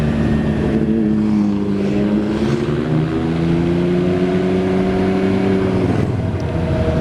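A Can-Am Ryker three-wheeler's engine and exhaust burble steadily up close on a road, a continuous low rumble with a slowly rising tone before it drops off near the end.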